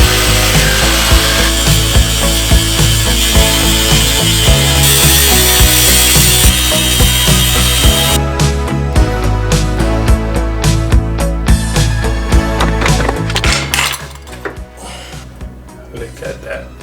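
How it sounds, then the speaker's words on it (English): An angle grinder's cut-off wheel grinds through a steel bolt on a rear strut bushing of an Infiniti G35 coupe, a loud continuous harsh whine that shifts pitch, then cuts out abruptly and leaves quieter scraping. "I can just cut the bolt."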